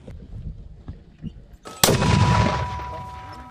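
Live artillery round fired during infantry live-fire training, a single sharp heavy blast followed by a long rumbling decay, preceded by faint voices and quieter activity.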